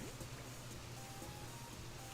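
Steady rain falling in Animal Crossing: New Horizons, a continuous soft hiss of drops across the whole stretch with no clear talk over it.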